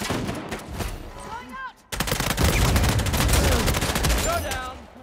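Rapid gunfire from Uncharted 4 multiplayer, a brief burst early on, then a short pause and sustained loud shooting bursts with game effects, over faint background voice.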